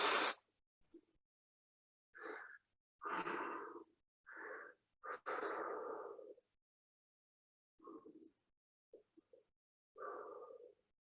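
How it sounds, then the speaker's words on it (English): Forceful exhalations through the mouth in Mukh Dhoti breathing, a series of breathy whooshing bursts of varied length separated by silences, close and clear. "Exhale through the mouth."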